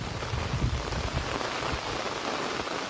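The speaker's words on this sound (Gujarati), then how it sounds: "તો હું તમને વરસાદનું જે અત્યારનો નજારો બતાવું અહીંયા ગામડામાં" Steady, dense monsoon downpour in a village, pouring down nearby, a continuous loud hiss of drops with some low rumbling patter, no voices.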